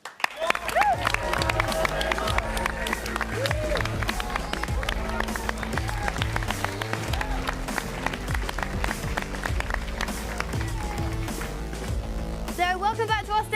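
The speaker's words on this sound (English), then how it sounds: "That was a nice big cheer for them and their competition" Crowd at an esports grand final on a live event stage cheers and applauds steadily throughout, blended with loud music and a speaking voice, swelling briefly near the end.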